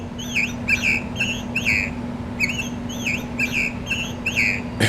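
A motion-activated singing bird ornament hung on a Christmas tree chirps and trills in two bursts of repeated electronic warbles with a short pause between, close and clear over a low steady hum.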